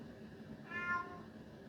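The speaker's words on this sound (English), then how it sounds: "It was one of my cats." A house cat gives a single soft, drawn-out meow at middle distance, rising and falling briefly over quiet room tone.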